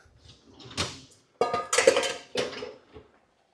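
Dishes and cutlery clatter and clink as they are loaded into a dishwasher, in several close bursts of ceramic knocks and metallic chinks.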